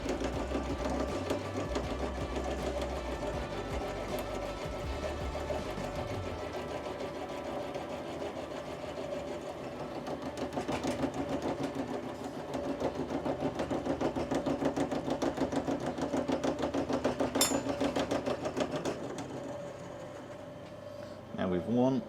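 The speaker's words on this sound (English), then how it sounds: "So we're climb cutting this because it's high speed steel." A milling machine climb cutting high speed steel for a classic Mini flywheel and clutch part, a steady close mechanical whir and chatter running continuously, with a voice talking over it.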